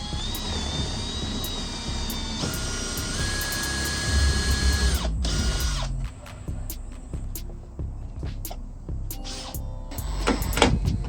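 A cordless drill drives screws into a table being built for a Suzuki Jimny, whining in long steady runs with pitch shifts as the screws bite. Short pauses and a few sharp clicks break up the drilling.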